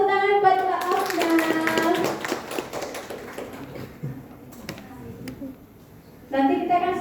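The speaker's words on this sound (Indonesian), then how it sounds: "Oke, terima kasih, tepuk tangan buat Mbak Afna." An audience in a seminar on AI in library services claps for a participant, a brief patter of light claps between stretches of talk.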